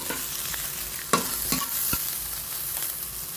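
Mung beans being sautéed in a pan with tinapa (smoked fish), with stirring scrapes and a bright sizzle running steadily throughout, close and fairly loud, with no one speaking.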